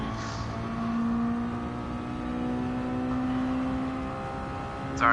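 A Mazda Miata race car engine in Gran Turismo 7 at the Tsukuba circuit holds a steady, buzzing drone at fairly constant revs, with a short sharp burst right at the end.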